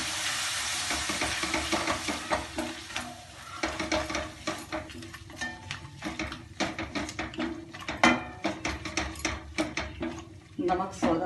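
Yogurt with black salt frying in a pan over medium flame, a busy sizzle with repeated rhythmic stirring and scraping strokes, fairly loud and close, with no talk.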